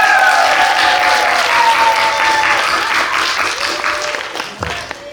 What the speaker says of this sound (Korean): 다시 한번 큰 박수 치면서 오후 대회 시작하도록 하겠습니다